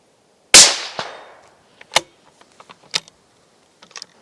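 A rifle rested on a Manbily WZ-2836 carbon fibre inverted tripod fires one loud, sharp shot with a quick decay, followed by several scattered metallic clicks and clatters.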